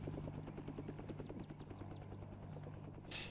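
Helicopter from the video game Fallujah, a steady rotor drone with rapid, even blade thumps that stays loud and close throughout before ending in a brief burst of hiss.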